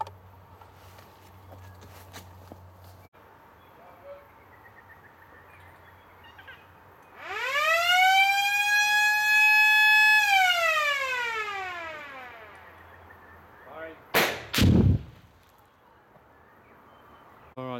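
A warning siren winds up, holds and fades away over a quiet site, then a single sharp, loud rock blast goes off as 14 drilled holes in hard rhyodacite are fired for a garage site in Ferny Creek.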